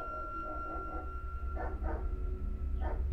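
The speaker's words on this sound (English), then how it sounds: "the freaking neighbor's dog in the background is annoying" A neighbor's dog barks in the background, three or four muffled, distant barks over a constant low hum.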